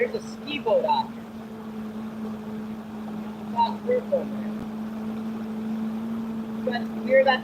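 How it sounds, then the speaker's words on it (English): A tiny ski boat's engine hums steadily out on the water, a constant low drone running under intermittent talk from a man nearby. "That's a little teeny tiny ski boat."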